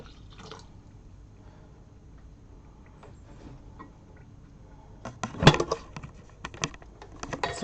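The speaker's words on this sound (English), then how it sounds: "I'm going to put some cold water in here first" Cold water splashing and dripping into an indigo dye vat, starting after a long quiet stretch with a few sharp, close splashes and scattered drips.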